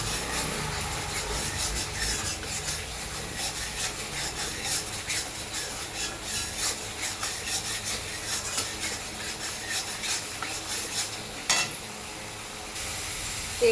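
Chili powder sizzling in hot oil in a pan, a steady dense crackle with occasional sharper pops and stirring scrapes, close and fairly loud with no talking.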